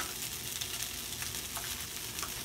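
Fried rice stirred in a pan with a spoon, giving a dense, continuous sizzle and frying hiss with faint scraping, close and steady, with no speech.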